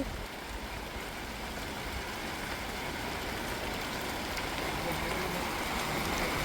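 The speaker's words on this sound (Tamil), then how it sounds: "பாருங்கள் நல்ல மழை பேஞ்சிக்கிட்டு இருக்குது" Heavy evening rain pours steadily in a village during strong wind, forming a dense, continuous hiss that swells slightly louder toward the end, with no voices.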